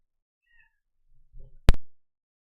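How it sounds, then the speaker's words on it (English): A cat lets out one short, loud meow after a few faint rustles and quieter sounds, in an otherwise quiet room. "My cat's going crazy."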